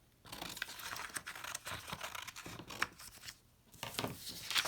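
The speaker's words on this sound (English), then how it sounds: "I'm going to just have some scissors and cut off part of my paper." Scissors snip through a sheet of paper close by, a run of crisp irregular cuts and rustles with short pauses between them.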